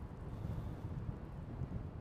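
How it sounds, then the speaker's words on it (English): Low, gusty wind rumbles against the microphone, steady and buffeting, with no voices. "Very windy."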